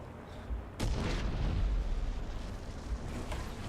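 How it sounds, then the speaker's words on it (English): A close artillery shell explodes in War Thunder tank combat, a loud heavy boom followed by a sustained low rumble that slowly fades. "Ooh, artillery was pretty close."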